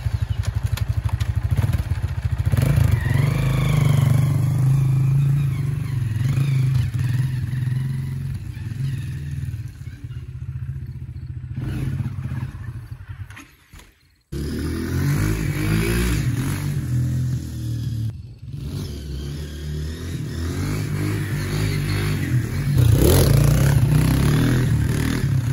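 A small dirt bike engine revs up and down repeatedly, loud and close, with a brief cutoff partway through before it picks up again.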